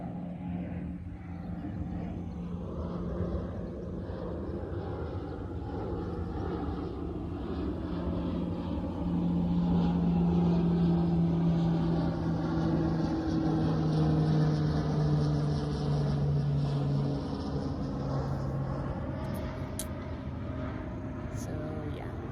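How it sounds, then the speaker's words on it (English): A loud, droning engine of a low-flying weather plane rumbles steadily overhead, swelling in the middle with a shifting pitch, while background voices are faintly present. "that plane there I do believe is a weather plane"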